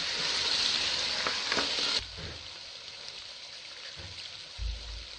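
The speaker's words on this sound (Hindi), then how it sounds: "भूनते वक्त मुसलसल चम्मच हिलाते रहें और साथ थोड़ा थोड़ा पानी डालते रहें, मसाला नीचे ना लगे।" Masala sizzles and fries in a pan for cow trotter curry (paye) while a spoon stirs it. A steady, bright frying hiss runs for about two seconds, then drops to a quieter simmer with soft scrapes.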